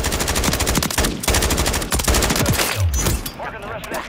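Rapid shotgun blasts and automatic gunfire in Call of Duty, dense and loud throughout, with sharp repeated bursts that fade near the end as a voice speaks briefly in the background.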